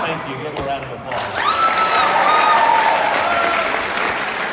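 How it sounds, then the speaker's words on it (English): Applause from an audience after a speech at a family vacation gathering, starting with a few claps and swelling into sustained clapping with some cheering whistles and voices mixed in. "Give a round of applause."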